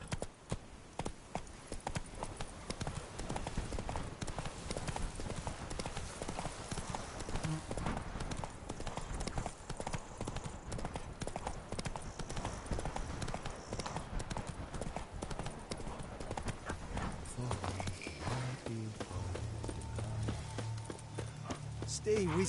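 Horse hooves clip-clopping at a steady gallop in The Witcher 3: Blood and Wine, running continuously with game music and voices underneath.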